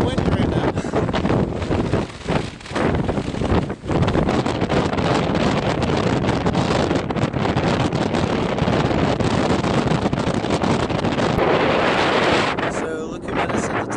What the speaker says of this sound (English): You can tell it's very windy right now.